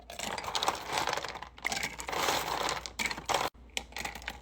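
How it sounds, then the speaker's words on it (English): Ice cubes clatter and crackle steadily into a cup for several seconds, a dense close rattling with a brief pause near the end, no talking. "Go ahead and get you some ice and fill your cup up."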